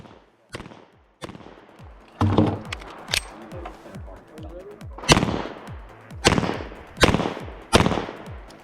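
Pistol gunshots ring out at an IDPA state championship stage, where steel poppers trigger moving targets: a string of sharp, loud, close shots with echoing tails, irregularly spaced and then quicker, with no talk.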